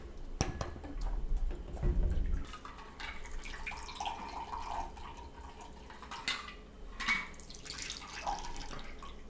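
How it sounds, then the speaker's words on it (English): Rum poured heavily into a glass: a trickling liquid pour with drips and light glassy clinks, fairly faint and close, with small handling noises around it. "Pour it heavy on this."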